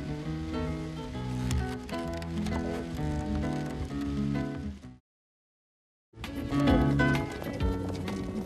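Horse hooves clip-clopping in the Marquesas Islands, with a steady busy rhythm of hoof strikes under a dense mix of other sound, broken by a second of silence before resuming.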